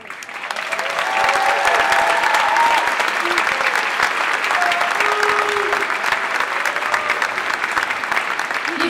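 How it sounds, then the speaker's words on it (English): Concert audience in a hall breaks into loud, sustained applause, swelling within the first second or two and holding steady, with faint voices and cheers mixed into the clapping. "Give them a big round of applause."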